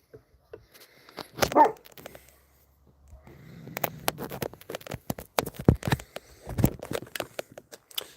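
Dog barking and yipping outdoors near a garden walkway of Japanese maples, a series of sharp, uneven barks after a brief whimper, close and moderately loud.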